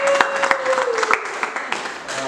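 Church congregation claps and applauds for the Lord, a steady wash of hand claps with a few sharper slaps, while a voice speaks over the clapping.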